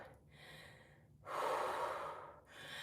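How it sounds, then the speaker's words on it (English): Heavy, deep breathing after a home leg workout with dumbbells, loud and close: a few audible inhales and a long forceful exhale, with no talking. "Catch your breath."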